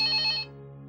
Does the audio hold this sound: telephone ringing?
yes